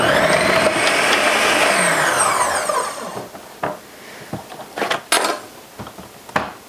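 Food processor motor whirring on its low setting while slicing zucchini, a steady whine for about three seconds, then stopping, followed by scattered clatters and knocks of the machine and utensils.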